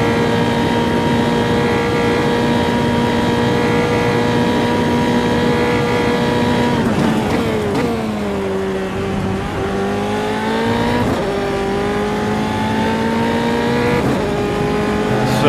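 An old Formula 3 racing car's engine drones loudly and steadily around Imola in a racing video game, pitch rising through the gears, dipping under braking and climbing again, heard alone throughout.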